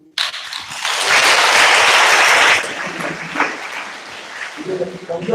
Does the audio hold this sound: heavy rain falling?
no